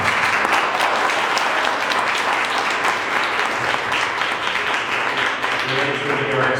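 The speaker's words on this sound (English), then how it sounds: "let's give him a round of applause" Sustained audience applause fills a student union AGM hall, steady dense clapping from a sizable crowd, loud and continuous throughout, with a faint voice or tone emerging near the end.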